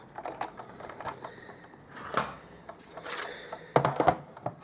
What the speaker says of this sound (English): I'm going to grab my big shot and I'm going to cut that out